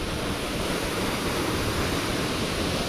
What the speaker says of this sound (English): That was our first waterfall.